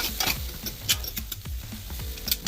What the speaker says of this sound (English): Just gather up all that goodness off the bottom of the pan